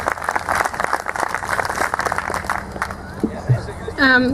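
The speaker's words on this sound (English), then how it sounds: "we need to clap for that" Applause from an audience, a dense steady clatter of many hands clapping for several seconds, with crowd noise mixed in before it fades.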